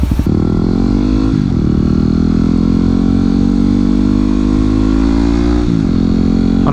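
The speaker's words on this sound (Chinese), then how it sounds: "在换机油之前，记得你要先热一下车子" A Kawasaki Ninja 300 motorcycle idles in place to warm up, its engine running loud and steady from close by, with brief shifts in pitch from small throttle changes.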